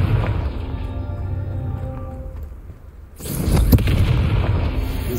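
The Confringo explosive spell cast in Hogwarts Legacy, a low rumbling magical buildup followed by a sudden heavy boom and crackling blast burst, loud and close, trailing into a sustained roar.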